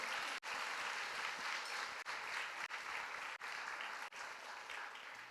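A church congregation at a Portuguese-language service claps steadily and densely, a sustained roomful of applause broken by a few brief dips.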